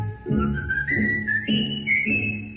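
A performer whistles a cheerful melodic tune on an old-time radio theatre broadcast, clear and close over a soft rhythmic orchestral accompaniment, with no talking.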